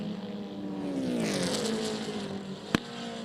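A 1966 Ginetta and other race cars sweep past on the Lime Rock Park circuit, a steady engine drone rising in pitch then falling away as they pass, with a brief sharp bang near the end.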